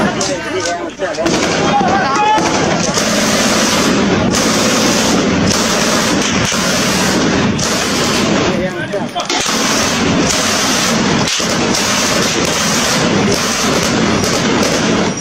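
An MG3 machine gun fires sustained, rapid bursts with sharp cracks, loud and close, and a voice is heard intermittently.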